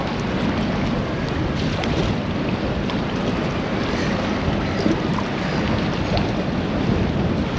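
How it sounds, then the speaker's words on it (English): A yacht motoring out of a marina at Poole, Dorset, on a bright, breezy day: a continuous loud rush of wind buffeting the microphone, blended with a low engine rumble and the wash of water, with no voices. "And a yacht just pulling out of the marina."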